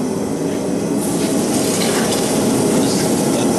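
Hot blacksmith tongs quenched in a water bucket give a steady, loud hiss and sizzle throughout, a broadband rushing sound with a faint bubbling texture and no speech.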